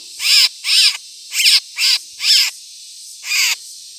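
White-rumped shamas calling in a row of six loud, clear, ringing notes with short gaps between them, close and with no voices.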